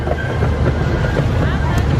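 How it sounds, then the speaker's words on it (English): The Balboa Park miniature train rolls along with a continuous low rumble and rattle, heavy wind buffeting the microphone, and murmured voices mixed in. "So here we go on the Balboa Park miniature train."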